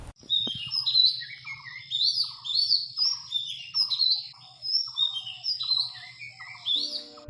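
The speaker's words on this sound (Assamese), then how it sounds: "এই মাতটো এৰা বা দহিকতৰা চৰাইৰ।" An oriental magpie-robin sings a varied run of clear, sweet whistled notes and chirps, repeated phrases following one another steadily, close and distinct over a faint low hum.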